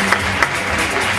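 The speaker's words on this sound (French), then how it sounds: "vous pouvez l'applaudir, Fabrice Radkowski." Brief applause from the audience at a bodybuilding competition in Auby, a dense wash of clapping heard close for about a second.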